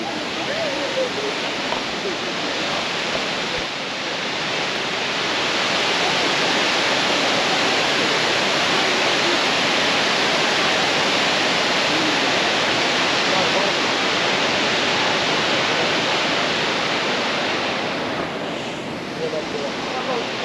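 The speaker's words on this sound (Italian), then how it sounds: "Cascate dell'Ouzod viste dall'alto." The Ouzoud waterfalls in Morocco, heard from above, give a constant broad roar of falling water, loud and even throughout with no break.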